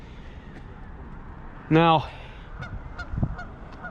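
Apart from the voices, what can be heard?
geese honking at Pymatuming Reservoir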